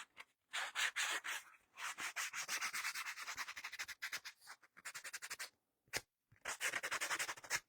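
Paper banner for a Christmas door hanger being rubbed and scraped to distress it, a close, rough rasping in repeated bursts with short pauses between strokes.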